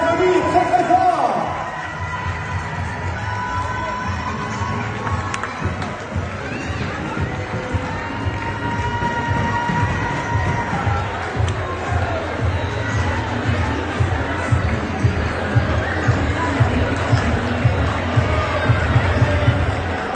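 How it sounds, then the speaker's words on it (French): Crowd at an amateur handball match cheering and clapping loudly for the players, a sustained roar of applause and shouts, with an announcer's voice over the PA. "Allez, c'est mérité, vous pouvez les applaudir très très fort."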